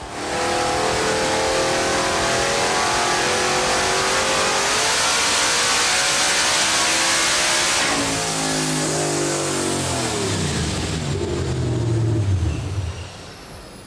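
A Coyote-powered Ford Mustang on an engine power chassis dyno revs up steadily to 6,000 RPM, then pulls hard at full throttle in a loud, rising roar that drops away at the end.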